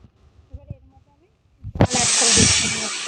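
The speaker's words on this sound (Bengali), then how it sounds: "ভালো করে আমি মশলাটাকে কষিয়ে নেব।" Spice paste (masala) frying in a pan for a thin fish curry with drumsticks and potato erupts into a loud, steady sizzle after a quieter stretch of faint kitchen clatter and voice-like sounds.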